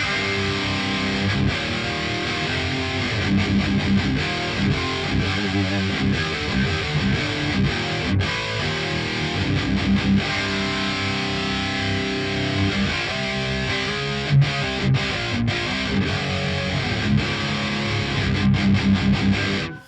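Heavily distorted high-gain electric guitar tuned to drop C plays low, chugging riffs continuously, with palm-muted rhythms and a thick, saturated tone throughout.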